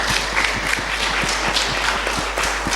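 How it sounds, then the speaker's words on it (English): Steady, dense applause from a conference audience honouring the speakers, a continuous wash of many hands clapping at even loudness throughout, with no voices over it. "Please give us a round of applause for our speakers today"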